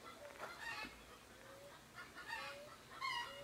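A hen on a small rural farm, a plastic fruit bag tangled on its foot, gives a few soft, scattered clucks and calls from a moderate distance in an otherwise quiet yard.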